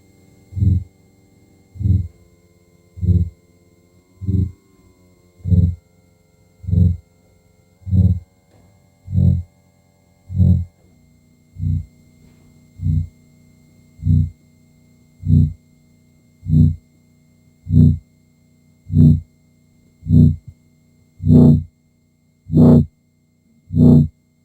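An ambient synthesizer patch with no reverb gives evenly spaced low growling pulses, about one per second, dry and steady, each ending abruptly and getting slightly brighter toward the end.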